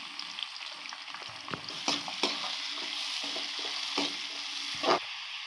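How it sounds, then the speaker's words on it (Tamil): Chopped green chilies sizzle and fry steadily in a hot pan, with occasional scraping stirs of a spoon, close up and moderately loud. "பச்சை மிளகாய் நல்லா வதங்கிச்சு வெங்காயம் போட்டுக்கலாம்"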